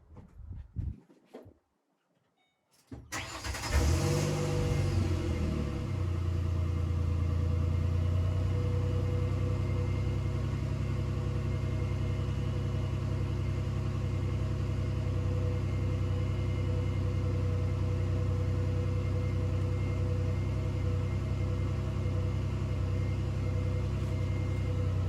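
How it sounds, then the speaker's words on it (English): A car engine starts after a moment of near silence, then settles into a steady low idle rumble that holds evenly and close for the rest of the stretch, with no talk. "I'm going to go ahead and turn the vehicle on real quick."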